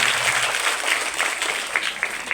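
An audience greets two girls in traditional Bharwad attire at a school cultural show with a burst of crowd applause, steady, fairly loud clapping that carries through the whole moment with no voices on top.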